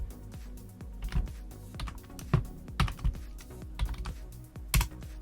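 A password is typed on a computer keyboard, close and fairly quiet, with irregular clusters of key clicks and a few heavier presses scattered throughout.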